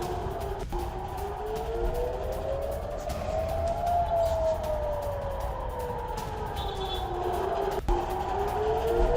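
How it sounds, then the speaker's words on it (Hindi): Air raid sirens wail across Haifa during an Iranian missile attack, a distant rising and falling tone sweeping slowly up and down over steady background rumble, with a couple of sharp thuds. "जरा सुनिए किस तरह से हाइफा में एयर रेड सायरन सुनाई दे रहे हैं"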